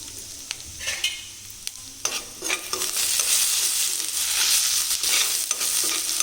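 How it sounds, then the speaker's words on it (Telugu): Steady, fairly loud sizzling and crackling of mustard seeds, cumin seeds and black gram frying in hot oil, with occasional stirring scrapes. "కొంచెం వేగాలండి. ఇవి వేగితే బాగుంటుంది పోపు"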